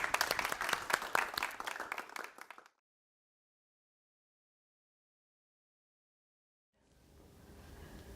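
An audience at a tech meetup gives a speaker a round of applause: steady clapping and crowd noise that cuts off abruptly, then a long silence before a low murmur of room noise returns.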